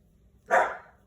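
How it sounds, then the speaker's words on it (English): A single short bark from a dog shut in a kennel, fairly close and clear against a quiet room. "excuse my dog, he's in the kennel right now and not that happy"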